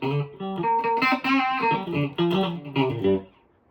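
Distorted electric guitar on the bridge pickup, through a Vox MV50 amp head with no effects, plays a short run of notes and chords with a bright, biting tone, then rings out and fades.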